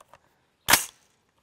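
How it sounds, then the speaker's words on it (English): A single sharp rifle shot from a 16-inch barrel firing an M855A1 round at a Level III+ steel armor plate, one loud crack with a brief tail, preceded by faint small noises. "now we brought out the 16 inch for another 2 shots of"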